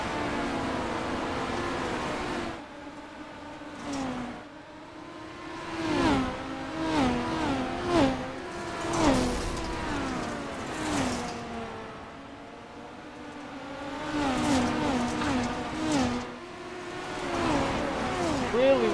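Dirt midget race cars running warm-up laps on a track at Bristol, their engines rising and falling in repeated revving passes, some near and loud and others fading into the distance, with no talk over them.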